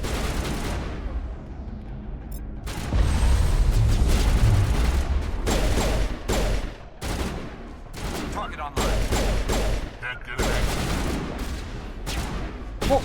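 A shotgun fires during a firefight in Mass Effect Legendary Edition, with loud, close booming blasts coming in irregular bursts among other gunfire. A voice speaks now and then between the shots.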